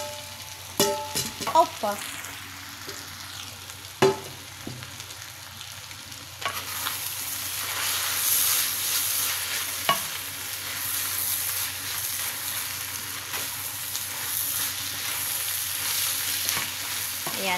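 Chicken drops into a hot pan after a few clinks and a brief exclamation, then a steady, loud frying sizzle fills the rest of the clip, with occasional stirring taps.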